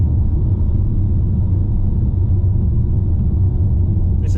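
Steady, loud low rumble of road and tyre noise inside a 2025 Vauxhall Grandland petrol hybrid cruising at 54 mph on 19-inch wheels over a poor road surface, continuous and unchanging throughout.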